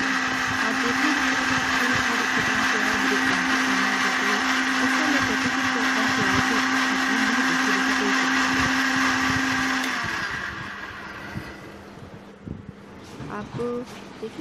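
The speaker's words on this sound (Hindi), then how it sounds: "एक अदद प्याज मीडियम साइज़ के ली और अदरक लहसुन को अच्छे से ब्लेंड कर लिया" A kitchen blender grinds a medium onion with ginger and garlic, a loud, steady motor whine for about ten seconds that then winds down and stops, followed by softer handling clatter.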